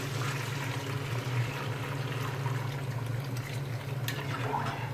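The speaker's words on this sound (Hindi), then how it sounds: "अब मैं इसमें यखनी ऐड करूँगी, जो हमने यखनी निकाली थी" Beef broth (yakhni) is poured into a pulao pot, a soft steady liquid pour and splash heard quietly over a low kitchen hum.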